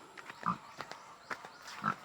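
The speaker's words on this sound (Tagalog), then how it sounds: "Ayan yung baboy." A pig grunts several times in short, soft bursts, close by, with quiet farmyard background between the grunts.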